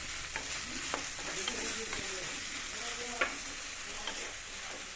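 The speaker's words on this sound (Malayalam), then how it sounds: "ഇട്ടിട്ട് നന്നായി ഒന്ന് വഴറ്റിയിട്ട് ചെറിയൊരു ബ്രൗൺ കളർ ആവുന്ന വരെ നമുക്ക് വെയിറ്റ് ചെയ്യാം" Chopped onion and tomato sauté in hot oil in a pan for a mackerel curry. A steady sizzle runs throughout, and a spatula scrapes and stirs with a few sharp clicks against the pan. No one speaks.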